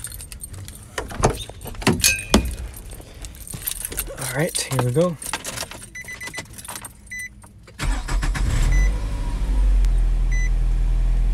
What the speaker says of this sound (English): now we're going to start the car up and see how it sounds.